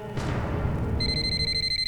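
Mobile phone ringing in a room, a steady electronic tone sequence starting partway in and repeating over a low background murmur, moderately close.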